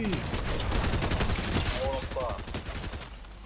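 Gunfire in the Fortnite video game aimed at the player, a dense burst of rapid shots running steadily through the clip, with game noise and brief voices in the background.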